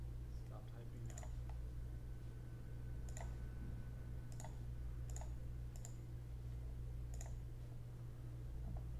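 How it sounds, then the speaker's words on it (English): A computer keyboard clicks in scattered, irregular bursts of keystrokes over a steady low hum, close and fairly quiet. "Sorry that you can hear my keyboard. I'm gonna stop typing now."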